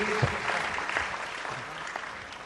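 An audience at a university anniversary celebration in Surabaya breaks into steady applause, dense and continuous at a moderate level, fading slightly toward the end.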